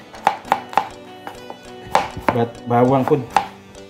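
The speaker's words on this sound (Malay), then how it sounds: "yang ini macam biasa kita potong-potong juga, potong-potong halus-halus gitu je" Knife chopping onion and garlic finely on a board, a series of sharp distinct blade thuds in uneven rhythm, close and clear, with a brief rustle of the cut pieces in between.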